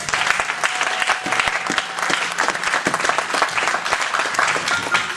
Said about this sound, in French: On acclame le Seigneur pour la servante de Dieu qui m'a précédé.